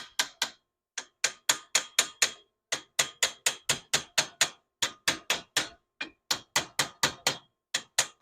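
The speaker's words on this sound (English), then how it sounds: "I'll give it a little tap with the hammer." Rapid metallic hammer taps on a custom steering column part in quick bursts of four to six strikes, separated by brief pauses, close and sharp with no voices.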